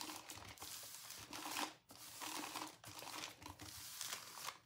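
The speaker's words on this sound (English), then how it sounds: "we're gonna roll the tumbler into the parchment paper all the way till it closes" Parchment paper crinkles and rustles continuously as a tumbler is rolled up inside it, close and crisp, with brief pauses between bursts of crackling.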